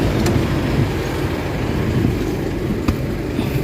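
An Isuzu MU-X diesel engine with a low-power fault runs close by in a steady, even drone, with low rumble and a couple of faint clicks, and no clear rise in pitch from revving.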